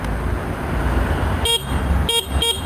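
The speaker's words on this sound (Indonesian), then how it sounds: "ada klakson gitu. Klaksonnya kayak gini suaranya" A car horn honks three short times over steady engine and road noise, the beeps brief and moderately loud.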